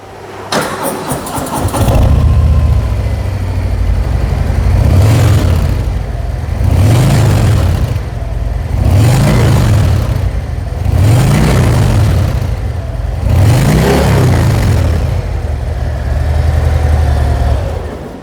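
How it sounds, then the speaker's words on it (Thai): A black-and-chrome 2020 Harley-Davidson Heritage Softail 114 motorcycle starts up with a sharp crank, then idles loud and close with a deep lumpy rumble, swelling in several slow throttle blips about every two seconds. "มาฟังเสียงเครื่องยนต์กัน"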